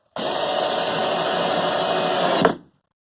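A power drill drives screws into a board at an allotment, one continuous high whirring run of about two seconds that ends with a quick jolt and stops.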